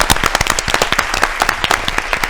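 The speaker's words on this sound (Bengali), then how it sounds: "একটা জোরদার হাততালি হয়ে যাক তাদের জন্য।" An audience in a televised farm quiz show claps loudly in a brief burst of applause, dense and sharp throughout.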